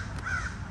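A single crow caws once, briefly, at close-to-moderate range in an outdoor small family cemetery behind a fire station in Georgia, over steady low background rumble.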